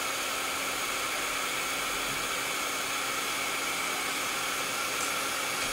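A hair dryer blowing steadily on a painted spider-and-web craft, a constant close whooshing hiss with a faint whine that holds unchanged throughout.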